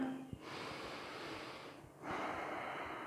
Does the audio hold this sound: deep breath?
yes